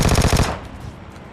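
An S12K shotgun fires in PUBG Lite, a rapid burst of about five loud, close blasts in quick rhythm, then a fading echo.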